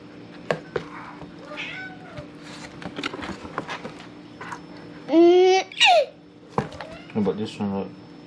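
A cat meows loudly twice in a row, close by, amid chatter and laughter from several people and brief rustling.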